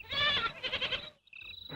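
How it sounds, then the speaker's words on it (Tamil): A goat bleats in a wavering, nasal call lasting about a second, fairly close and loud, followed by a brief pause and a thinner, higher second cry. "ஆடு கத்துது"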